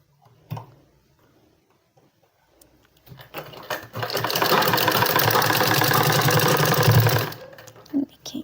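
A sewing machine stitches a women's trouser seam, running in one continuous whirring, rattling burst for about three seconds after a quiet start with a few small handling knocks.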